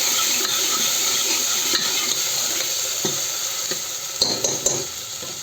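Urad dal is stirred in a hot pan. A steady sizzle runs under occasional scraping knocks of the spoon against the pan, close by, with no talking.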